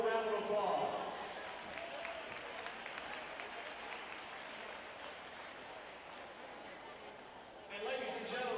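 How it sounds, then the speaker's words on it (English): A gym audience at a boys' basketball championship gives a sustained round of applause to the girls' volleyball team. A broad wash of clapping carries on for several seconds, and a public-address voice talks briefly at the start and the end. "Let's give these ladies one more round of applause."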